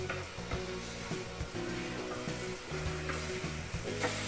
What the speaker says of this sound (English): Give it like a stir.